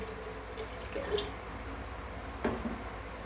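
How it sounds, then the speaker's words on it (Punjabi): Water trickles and splashes faintly into a cooking pot of potato pakora curry, with a couple of brief louder pours and drips against a quiet background. "ਇੱਥੇ ਆਪਾਂ ਪਾਣੀ ਹੋਰ ਪਾਵਾਂਗੇ"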